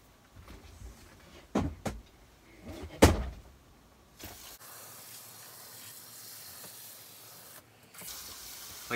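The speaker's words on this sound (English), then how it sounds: "I'm going to water that in really heavy" Heavy watering of freshly planted fava bean microgreens, a soft steady hiss and patter of spray running over soil for several seconds after a few brief clunks and knocks.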